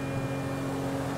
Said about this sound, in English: Now that doesn't sound good. Hey, that's the engine, man.